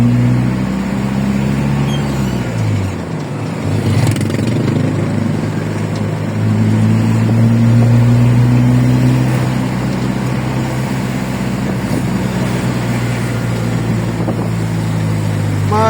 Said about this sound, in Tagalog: Napaka-traffic mga dudes.